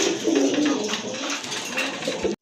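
Pigeons for sale at a market stall coo softly and steadily amid a dense bed of crowd and street noise, with no clear talk.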